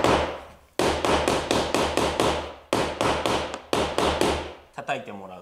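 Repeated sharp wooden knocks, loud and close, struck in quick bursts with brief pauses, as a wooden block is hammered to press down laminate.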